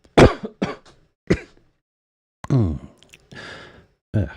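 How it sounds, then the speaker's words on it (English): One person close by lets out several short, harsh coughs and throat-clearing bursts, then a rougher drawn-out voiced cough and a breathy exhale, with silent gaps between. "Damn cough."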